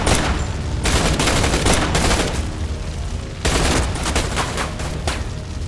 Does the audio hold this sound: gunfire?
yes